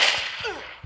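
A gunshot hitting the player in a 3D imposter fight video game: a sharp synthetic crack with a quick whip-like tail, followed by soft thuds and a final short thump.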